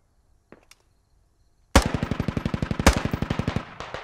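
Rapid automatic gunfire from a marksman-style shooter game, a sudden loud burst of evenly spaced shots after near silence with a couple of faint clicks, then a second burst continuing the rapid rhythm before tapering off.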